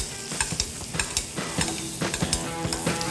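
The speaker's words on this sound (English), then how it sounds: "Add a few knobs of butter here. And just start to baste off that back knuckle." Butter foaming and sizzling in a hot pan while a herb-crusted rack of lamb is basted along the back knuckle and bones, with steady frying crackle and repeated spoon clinks and scrapes in an uneven rhythm, close and moderately loud.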